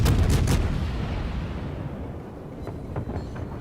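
Main guns of a Hindenburg cruiser firing armor-piercing shells in World of Warships, a loud booming salvo at the start that rumbles and fades, followed by faint distant impacts.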